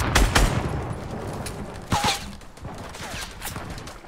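Fortnite gunfire crackles in quick scattered bursts, fairly quiet, with several rapid volleys of shots and no one speaking.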